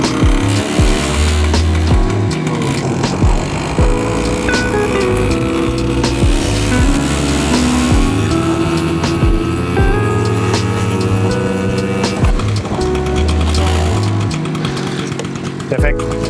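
A small vintage Vespa 50 L motor scooter engine runs loudly and continuously, revving with a buzzing, rattling drone up close.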